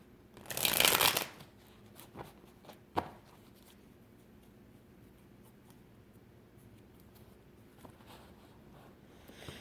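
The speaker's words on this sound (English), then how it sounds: "I need to shuffle here" Oracle cards are shuffled by hand in one brief, loud riffling burst, followed by a few soft taps and card handling in a quiet room.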